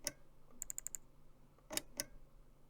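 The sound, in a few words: safe dial clicking in video game Mystery of the Druids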